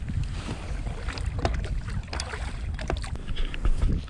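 A belly boat drifts and paddles on open water while pike fishing, giving a steady close wash of lapping water and wind buffeting the microphone, with no voices over it.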